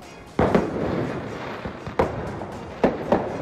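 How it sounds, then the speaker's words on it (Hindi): Fireworks fired at people during unrest in France crack and boom in several sharp bursts, spaced about a second apart, over a steady crackling rumble of crowd noise and distant pops. "ये देखिए, आतिशबाजी का इस्तेमाल एक दूसरे पर अटैक के लिए किया जा रहा है।"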